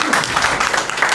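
A crowd at a BJP party headquarters event where a social worker is joining the party claps loudly in a dense, continuous burst, heard briefly, with a voice faintly present beneath it.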